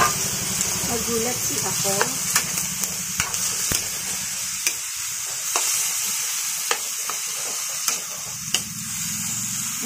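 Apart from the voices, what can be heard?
ground pork frying in a pan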